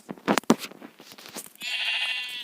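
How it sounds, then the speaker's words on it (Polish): In Minecraft, after a few quick clicks and shuffling noises, a single sheep bleat rings out, a wavering, nasal cry lasting about a second. "Jest owca"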